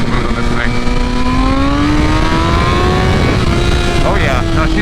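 A 2023 BMW M1000RR sportbike engine revs hard on a dyno, its tone climbing steadily in a loud, close, continuous howl with a voice faintly under it.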